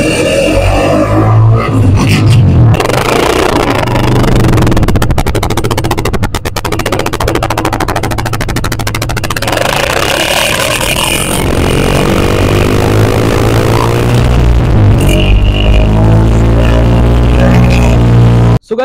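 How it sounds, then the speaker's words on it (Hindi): A 2024 Honda CG 125 Gold edition motorcycle engine runs loud and close, with a steady rough single-cylinder putter and rising and falling revs throughout, cutting off abruptly at the end. "अभी जो है इसका साउंड टेस्ट करने वाले हैं, तो स्टार्ट कर रहे हैं, तो अभी स्टार्ट हो गया"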